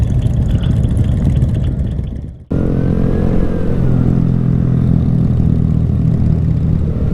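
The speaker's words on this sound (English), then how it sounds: "Oh, that's a lot of bikes." Motorcycle engines rumble at a rally, a loud close idling and revving drone from many bikes that drops out briefly then resumes as a dense, continuous roar.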